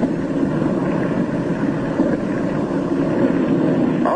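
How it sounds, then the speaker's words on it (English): A plane flying on its one remaining engine as that engine loses power gives a loud, continuous droning hum, steady and unbroken, with wind-like rumble and no talking. "His one remaining engine is losing power."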